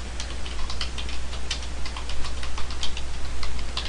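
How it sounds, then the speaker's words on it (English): Fingers typing on a computer keyboard in a quiet room, a steady run of light, fast clicks and taps with brief pauses, close and moderately loud over a low constant hum. "let me finish typing this here"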